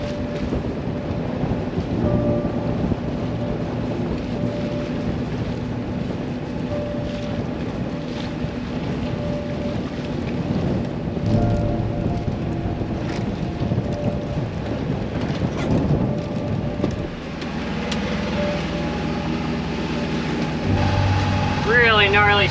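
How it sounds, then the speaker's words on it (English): Squall wind and rain battering a vintage sailboat motoring through a reef pass near Bora Bora, French Polynesia, with constant roaring gusts buffeting the microphone over a rumbling engine, loud and continuous throughout. "Squall is hitting right as I'm going through the pass"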